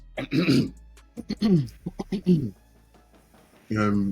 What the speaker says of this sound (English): I'll start by clearing my throat first.